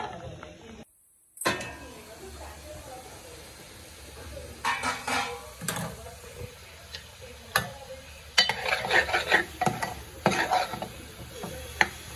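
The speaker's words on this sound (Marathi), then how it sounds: "आणि छान मसाल्याला भाजून घ्या." Masala spice paste roasts in a pan, with scattered stirring scrapes and light clinks of a spoon against the pan over a faint sizzle, growing busier toward the end.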